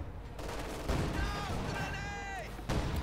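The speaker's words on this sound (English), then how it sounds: "Nice mortar strike there from the heavy mortar." Heavy mortar strike in a Company of Heroes 2 match, a booming impact among ongoing gunfire and battle noise, with whistling tones overhead and a second heavy thud near the end.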